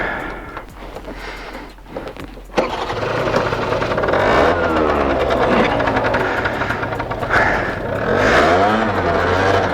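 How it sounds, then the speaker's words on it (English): A 2010 Piaggio Vespa ET2 50 scooter with a 49cc two-stroke engine sputters at idle, then its buzzing motor rises loudly and steadily as it rides away, revving up and down. "we're away on the Piaggio Vespa ET2 50, 49cc 2-stroke little motor."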